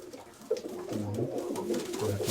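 A flying pigeon coos in soft, low, repeated warbling calls, fairly faint, against a murmur of background noise with no clear voices.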